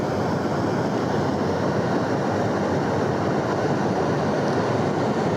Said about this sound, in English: Has a lower frequency composition than white noise.